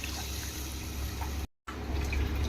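Water pours steadily into a pressure cooker holding one and a half glasses of rice for egg biryani, a close, continuous splashing rush broken by a brief pause before resuming.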